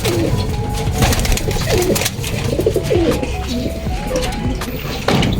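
Racing pigeons coo repeatedly at a loft, a steady chorus of low, throaty calls from several birds with some background rustle and faint voices.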